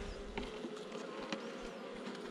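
Bees buzz in a steady, moderately close drone around an open hive while a beekeeper tends the colony, with a few brief louder passes standing out above the continuous hum.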